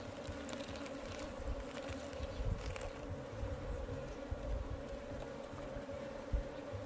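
Korean native honeybees hum in a dense, continuous buzz at their hive, a steady close drone with occasional louder passes and no voices.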